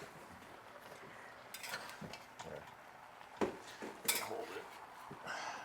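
Tomatoes being stirred into a slow braise in a pot. There is soft, intermittent clinking and scraping of a utensil against the pot, mostly quiet, with a few sharper knocks and a brief spoken word.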